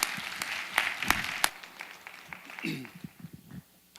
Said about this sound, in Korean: 큰 박수로 맞이해 주시겠습니다.